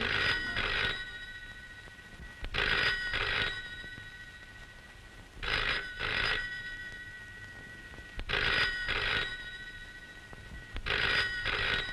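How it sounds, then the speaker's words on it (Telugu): A telephone rings again and again in a steady double-ring pattern, each pair separated by a quiet gap, with no talking. "ఆ ఫోన్ ఎవరో చూడమ్మా"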